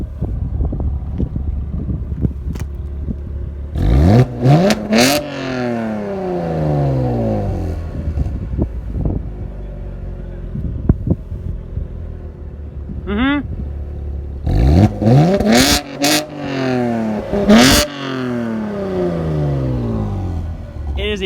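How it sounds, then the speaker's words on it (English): A 2018 Chevrolet Camaro V6 1LE engine revs in track mode, with two loud clusters of sharp rising and falling revs over a low idle, close by, with some wind buffeting. "So he's gonna rev it in tour mode and then track."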